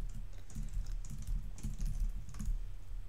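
A SQL query typed on a computer keyboard, quick irregular clicking keystrokes in short bursts, close and soft, with no talking.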